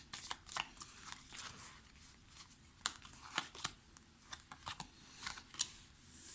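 Tarot cards are shuffled and laid down in a run of crisp, close flicks and soft slaps, irregular and fairly quiet, with no talking.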